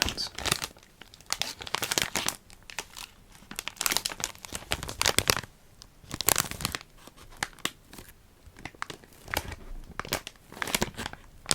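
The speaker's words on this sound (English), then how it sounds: "these packets might make nice crinkly sounds" Tea packets crinkled and crumpled close to the microphone, sharp crackly bursts repeating in irregular waves with short pauses between them, soft and intimate with no talking.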